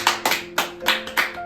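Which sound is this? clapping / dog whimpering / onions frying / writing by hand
clapping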